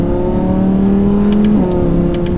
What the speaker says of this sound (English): You can hear that exhaust pop between shifts.